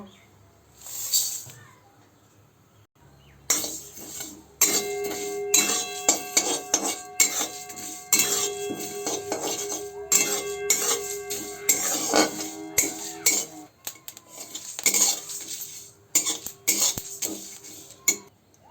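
Whole fennel, nigella, fenugreek, cumin and coriander seeds with dried red chillies are dry-roasted in a pan for a plum pickle spice mix, giving repeated scraping and clattering stirs that come and go for about fifteen seconds after a quiet start.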